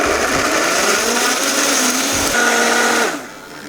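A blender whirs loud and steady as it purees hummus with olive oil, salt, pepper and spices, the motor tone holding even before dropping off sharply near the end.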